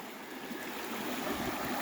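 River water flowing steadily past a stone food-preparation site, a soft continuous rushing wash with no talk, close and fairly quiet throughout.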